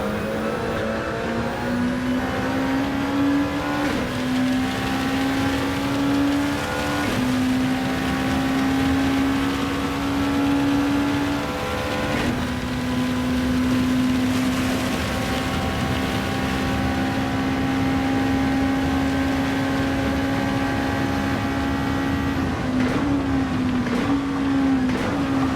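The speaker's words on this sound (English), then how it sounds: "Braking early, trying to get the car slowed down smoothly for the chicane." A race car's engine in Gran Turismo 7 drones steadily at high revs, its pitch stepping down in repeated drops as the driver brakes and shifts for a chicane, loud and continuous with no talk.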